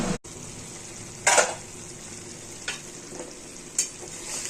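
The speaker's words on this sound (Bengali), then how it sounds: "মশলাটা কষানো হয়ে গেলেই বাকি সবজিগুলো ভেজে রাখা সবজিগুলো ফেলে দেবেন" Fried vegetables tossed into a spice masala that's being sautéed with salt, turmeric, chili powder and a little sugar for a Bengali chhyachra, giving a steady low sizzle with a few louder scraping stirs, close and without talk.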